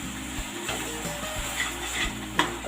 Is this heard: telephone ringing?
no